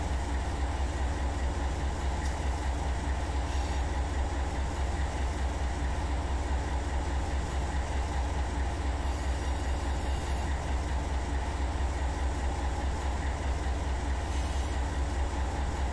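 A BNSF freight train carrying FedEx traffic rolls past at about 70 mph across the desert in Run 8 Train Simulator, a steady loud rumble with faint rhythmic clatter of wheels over rail joints and no talk.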